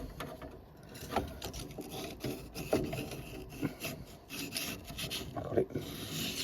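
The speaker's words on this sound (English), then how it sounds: "I'm going to try and scrape as much out of that as I can." Scraping out a boiler part: uneven rubbing and rasping strokes with small metallic clicks, close and moderately quiet, in irregular bursts with no talk.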